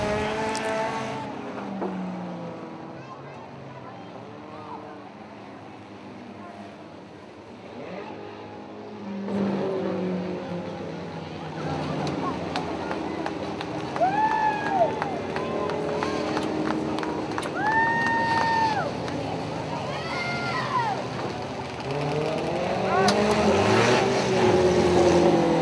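Race cars on a short racetrack roar through the final turn of a race, engine noise swelling and fading as they pass, with announcer commentary and crowd noise layered over the constant rumble.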